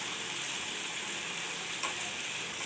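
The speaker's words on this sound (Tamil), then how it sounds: "இப்போ இதை நல்லா மிக்ஸ் பண்ணி விடலாம்." Chilli idli mixture in a frying pan, giving off a steady soft crackling sizzle with a single light scrape of stirring partway through.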